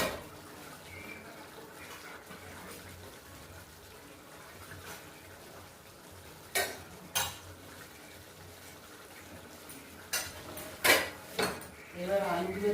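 Cooked rice is stirred by hand in a pot while chicken ball biryani is made, with quiet shuffling at first and then a cluster of sharp clinks and scrapes against the pot.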